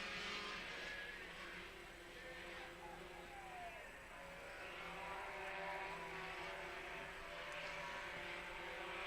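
A pack of wingless sprint cars roars around a dirt track at night in Kalgoorlie, a continuous droning engine wash rising and falling as they pass at middle distance, with no talk over it.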